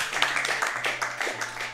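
Mario clapping in the video game Super Mario World: a quick, uneven run of light claps over a low, steady game tone, with no voices.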